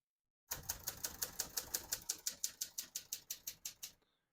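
Keys clack on a vintage portable typewriter in a quick, even run of about twenty sharp strikes, close and clear against a silent background, then stop.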